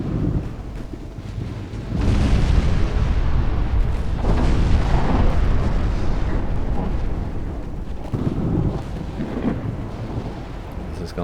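Battleship gunfire and explosions in Ultimate Admiral Dreadnoughts, a heavy, continuous rumble of distant booming shots and blasts swelling louder after the first couple of seconds and rolling on without talk.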